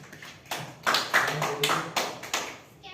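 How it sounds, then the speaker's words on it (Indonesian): Classroom applause for a student group, a short scattered patter of hand claps from a small crowd, fairly close, with faint voices underneath. "beri aplaus untuk kelompok 2 dulu"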